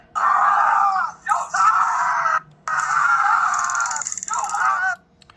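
A man lies face down with his hands behind his back and screams in pain while police repeatedly taser him, with long, loud, strained cries broken by short gasps, close and raw.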